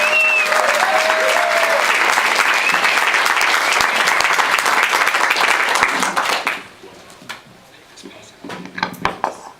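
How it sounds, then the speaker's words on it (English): A crowd at a gathering gives a round of applause for Antoinette, dense steady clapping that runs for several seconds and then thins out into scattered claps and quiet room noise. "Can I have a round of applause for Antoinette?"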